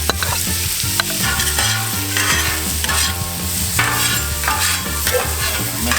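Dirty onions in butter on a Camp Chef griddle, a continuous close sizzle mixed with loud, steady background music that largely dominates, no talking.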